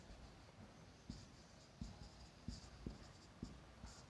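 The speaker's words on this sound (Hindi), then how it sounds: "अब लिखते हैं" Pen writing Hindi physics notes on electrostatics, a series of faint scratchy strokes and light taps on paper at close range, quiet and without talk.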